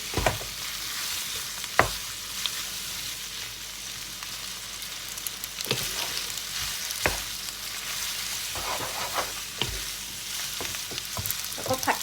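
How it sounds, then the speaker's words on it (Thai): Boiled spaghetti stir-fried in a pan gives a steady close sizzle throughout, broken by scraping and tapping strokes of the spatula at irregular intervals. "ผัดมานะคะ ยีไปยีมาให้คลุกเขาให้เข้ากันค่ะ"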